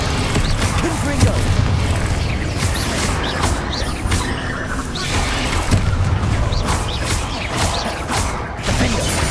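Confringo blasting spells cast repeatedly in combat in Hogwarts Legacy, bursting in a dense, continuous mix of booms, crashes and clattering mechanisms with a steady loud level and no clear gaps.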